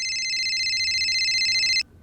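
A phone rings with a steady electronic tone, sustained and bright, holding for nearly two seconds before cutting off abruptly into a quiet room during a Mumbai police crime scene.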